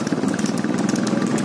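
A motorcycle engine runs steadily at close range with a continuous mid-pitched drone, apparently idling or moving slowly around a buffalo race practice, with no voices over it.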